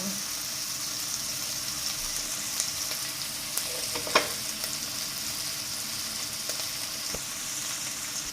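Ground pork and garlic stir-fry in a pan, producing a steady moderate sizzle with a few spatula knocks and scrapes, one louder clack near the middle.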